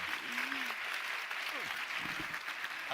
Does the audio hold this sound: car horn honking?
no